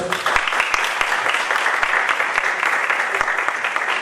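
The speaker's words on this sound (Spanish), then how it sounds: "vamos a recibir con un aplauso a los invitados" A room full of people applauding guests at a university talk, dense and sustained clapping for several seconds at a steady, lively level.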